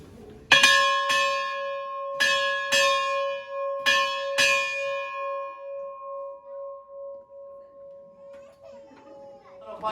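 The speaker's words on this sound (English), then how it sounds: "please mind your ears for the 11 o'clock bell" A ship's bell on the gun deck of HMS Warrior at Portsmouth Historic Dockyard strikes eleven o'clock in paired rings, loud and close, each clang ringing out and slowly decaying, followed by faint crowd murmur.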